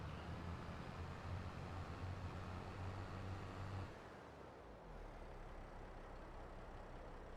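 A tractor engine runs steadily in the Farming Simulator video game, a loud low rumble that drops in level partway through, then carries on more quietly.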